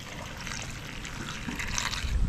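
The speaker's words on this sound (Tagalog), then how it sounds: "Tapos lalagyan po natin ng kaunting tubig." A little water trickles and splashes into a cooking pot of sweetened kamote, a steady close liquid pour building slightly louder toward the end, with no talking.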